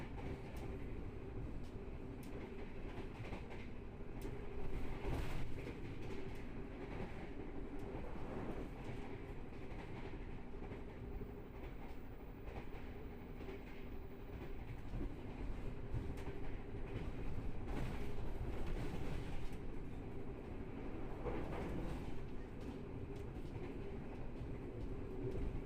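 Container freight train rolling past on the Pantura railway line in Indramayu, Indonesia, a steady loud rumble of wheels and wagons with rhythmic clatter, heard up close with no talking.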